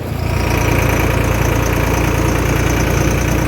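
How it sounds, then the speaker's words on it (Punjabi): A tractor, one of four pulling trolleys to a sugar mill, idles close by with a loud, steady, low engine rumble that continues unbroken, with no talking. "ਚਾਰ ਟਰੈਕਟਰ ਇਕੱਠੇ ਹੋ ਗਏ"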